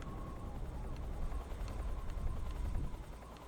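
Helicopter in the video game Metal Gear Solid 3, a steady rhythmic rotor thump and whine holding at moderate distance throughout, with no talking over it.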